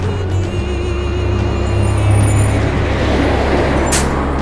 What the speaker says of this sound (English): There's traffic. Everybody's driving like crazy.